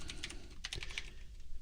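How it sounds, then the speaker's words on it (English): Keys tap in a quick, uneven run on a computer keyboard, quiet and close with no voices. "So I still type on that keyboard"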